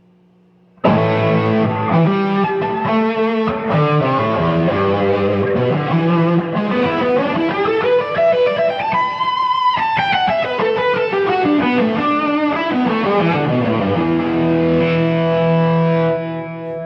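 Electric guitar played through Marshall Jubilee amps and two Overdrive Special combos set to overdrive, loud and sustained with distorted notes, chords and a rising then falling melodic run, close and alone without talk.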